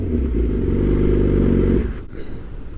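A motorcycle fitted with an aftermarket exhaust revs with a deep, loud, steady roar that holds for about two seconds, then drops back to a rumbling idle with some clatter.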